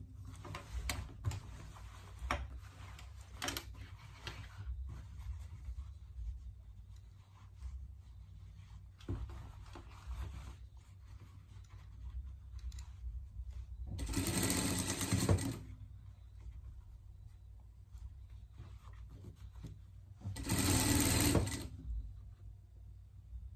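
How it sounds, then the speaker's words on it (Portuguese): A sewing machine stitching the sleeve of a pet parka, running in short quiet bursts with soft ticking between, then two louder sustained runs near the end. "Costura, costura aqui. Vamos fechar a nossa manga aqui."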